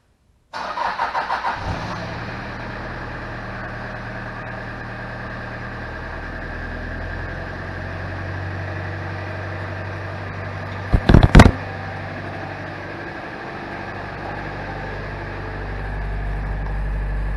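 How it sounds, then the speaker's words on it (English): A 1991 Toyota Land Cruiser Prado on a cold morning cranks with a short burst of starter whirring, catches and settles into a steady, fairly loud idle raised by the choke, with a brief clatter partway through. "All right, let's do a cold start on her. Cold start, muffler's cold."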